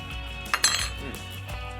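A utensil clinks and scrapes against a bowl while salsa ingredients, tomatoes and lime, are mixed, giving a few sharp close taps and then quieter stirring.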